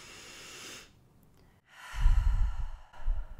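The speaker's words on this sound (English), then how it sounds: "let's pause and take a nice deep conscious breath." A slow, deep breath taken during a calm guided pause: a soft airy inhale, a short near-silent hold, then a long, heavier exhale, close to the microphone with no talking.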